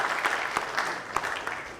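An audience at a GhIE manifesto series event on small-scale mining gives a short round of applause, a steady, fairly quiet patter of many hands with a few sharper claps standing out.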